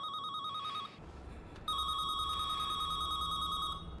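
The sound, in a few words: mobile phone ringing in a jacket pocket, film scene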